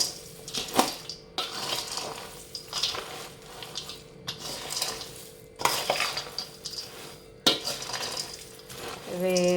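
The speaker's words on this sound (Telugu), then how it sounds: "బేషన్లో తీసుకున్నవి అన్నీ కూడా ఇలాగ కలుపుకోవాలి" Roasted nuts being stirred together in a metal basin for nut powder make loud, close scraping and rattling clatter in repeated bursts, with brief metallic clinks in between.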